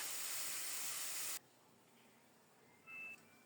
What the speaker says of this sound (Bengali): নেড়ে চেড়ে কিছুক্ষণ কষিয়ে নিয়ে ফোটানো গরম জল দিয়ে দেব পরিমাণ মতো।